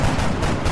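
Gunfire in XCOM: Enemy Unknown, a loud, dense burst of rapid shots in the video game that fills the short moment without pause.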